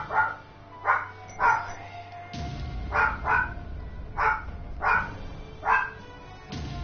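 A pet dog in a home barks in a series of about eight short, distinct woofs spaced a second or so apart, fairly close and clear over steady low background game audio, with no talk.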